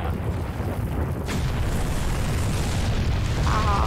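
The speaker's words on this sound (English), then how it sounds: "Okay, I'm gonna use the rocket launcher." A rocket launcher blast in Resident Evil 4 lands as a dense, sustained roar of explosion noise, loud and continuous for several seconds with a brighter burst partway through and faint tonal sounds near the end.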